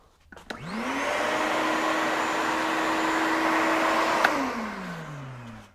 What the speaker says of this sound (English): Looks like that fits right in there on my rigid shop vac.